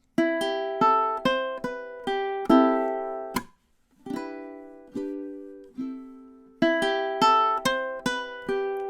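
A ukulele plays the tune of a song, its melody notes picked louder over softer accompaniment, in a steady series of plucked chords with one short gap midway.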